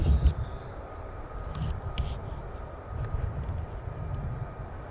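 A low, steady roar of F-35 jet engines rumbles at RAF Marham, distant and sustained, with a few faint higher clicks and tones over the drone.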